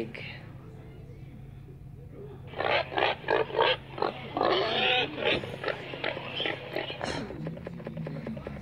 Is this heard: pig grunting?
yes